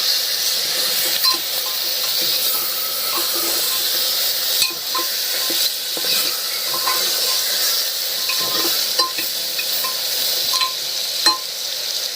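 Sukka mutton sizzles in oil in a pan while being stirred, a constant loud frying hiss broken by soft scraping and clicks of the spoon, with no voices.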